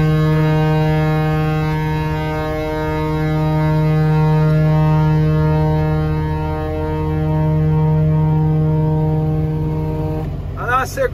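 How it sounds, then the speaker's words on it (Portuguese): A truck's air horn is held down in one long, loud, steady blare during a 7 September truck parade, wavering slightly before breaking up and sputtering at the end as the air runs out. "Vou pendurar na buzina."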